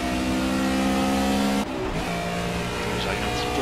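A GT touring race car at Silverstone in Project CARS roars at high, steady revs, briefly drops as the throttle lifts, then climbs again on acceleration, loud and close, with a voice talking over it.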